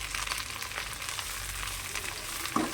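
Gongura pickle fries in peanut oil over a low flame, giving a steady, soft sizzle that runs throughout with no talk.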